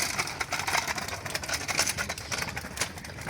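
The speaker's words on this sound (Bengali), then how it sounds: "এখানে স্কুটি চালাচ্ছে মাসিয়াত" A scooter engine runs steadily on a riverside road beside a river, a continuous mid-pitched hum with broadband outdoor noise and occasional bird calls mixed in.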